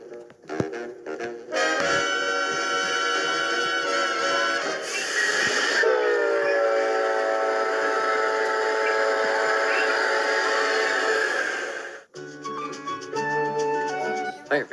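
An Amtrak Bombardier Alstom HHP-8 electric locomotive passes with a long, loud horn blast over rolling rail noise, nearby and steady before fading to rumbling wheels and clatter at the end.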